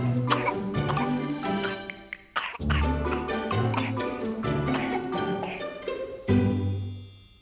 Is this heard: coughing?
yes